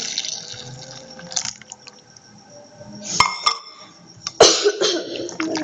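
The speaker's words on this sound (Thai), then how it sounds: "งั้นก็ใส่น้ำนี้ลงไปนะคะ ใส่ไปหมดเลย" Water poured into a slime solution mixture, a light trickle and splash into a container with clinks of glass or utensils, and a sharp cough or two breaking in.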